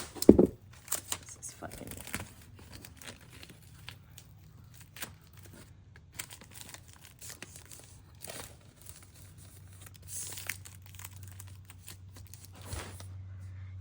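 Duct tape is torn and pressed over a rotten exterior wooden doorframe, making sharp rips and scattered crinkling bursts, close and fairly quiet, with someone speaking briefly over it.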